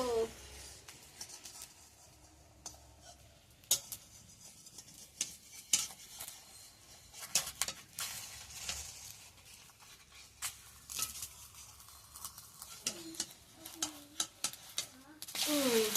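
Food stirred and flipped in a kadai, with scraping, clinking utensil strokes and light sizzling at close range, irregular taps scattered throughout and a voice speaking at moments.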